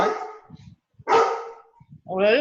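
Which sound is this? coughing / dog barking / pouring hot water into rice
dog barking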